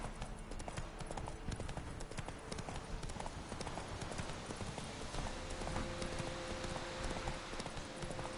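Steady clip-clop of Roach the horse's hooves in The Witcher 3, trotting at an even rhythm, loud and close, with a faint occasional neigh and a bit of voice underneath.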